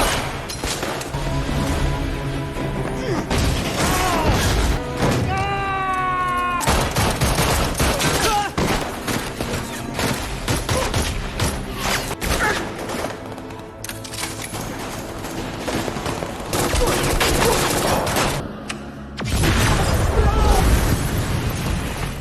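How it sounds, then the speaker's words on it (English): Film ambush firefight with masked gunmen attacking a squad: dense, sustained bursts of gunfire and booming impacts, loud and chaotic, with shouted voices and a narrating voice talking over the shooting. "masked gunmen ambush the squad in a brutal, well-coordinated firefight"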